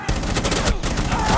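Rapid gunfire from the Rainbow Six Siege video game, a dense burst of close, loud shots in quick succession filling the whole moment.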